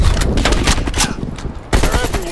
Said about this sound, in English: Ini tembak-tembakan film India.